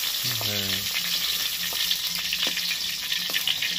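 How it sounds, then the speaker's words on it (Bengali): Pieces of paneer fry lightly in oil in a pan, giving a steady soft sizzle with a few clinks of a utensil stirring, heard up close with no talking. "পনিরগুলোকে হালকা করে ভেজে নিতে হবে"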